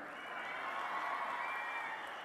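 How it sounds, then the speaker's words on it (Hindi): Applause from an audience at a political rally, a steady, fairly faint wash of clapping with no gaps, heard from a distance and alone. "आप थोड़ी ताली कम बजा रही है।"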